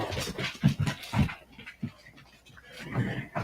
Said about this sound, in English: My little doggy just came in the house wet.